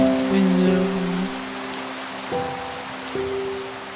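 Steady rain from the Minecraft video game hisses continuously, with sustained tonal game music lines running underneath.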